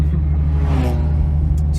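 Another Nissan 350Z approaching and passing on a California road on a Sunday, heard from inside a car over steady low engine rumble, with a brief swelling whoosh midway as it goes by.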